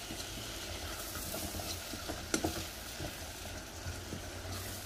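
Rice being stirred in a pot while cooking, with a soft, steady sizzle and faint scraping of the spoon. One or two small clinks rise through the quiet, continuous background.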